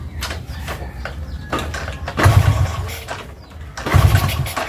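A Honda Astrea Grand motorcycle fitted with a Jupiter CDI ignition is cranked and started up close, with several rough bursts of engine noise rising and falling loudly.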